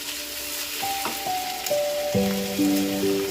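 Crushed ginger, garlic and green chilli sautéing in a pan for beef vindaloo, giving a steady close sizzle with stirring scrapes and a few clinks, alone without talk.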